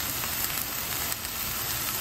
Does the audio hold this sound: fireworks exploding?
no